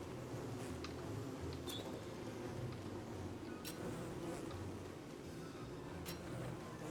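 A swarm of angry bees in the game Don't Starve Together buzzes steadily and loudly throughout, with occasional sharp clicks and brief higher tones over the constant drone.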